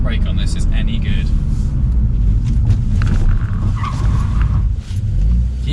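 Audi A1 Quattro driven hard with the handbrake pulled, a loud continuous engine and road roar with rough tyre scrubbing and skidding noise throughout.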